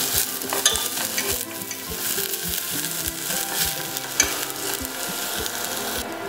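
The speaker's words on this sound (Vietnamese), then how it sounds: "mình phi lên cho nó thơm ha" Garlic and shallots sizzle steadily in hot oil while a utensil scrapes and taps the pan in a regular stirring rhythm, close and fairly loud.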